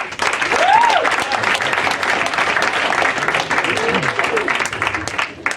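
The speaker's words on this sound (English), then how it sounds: "By a round of applause." An audience breaks into sustained applause, steady clapping filling the room throughout, with a few voices calling out underneath.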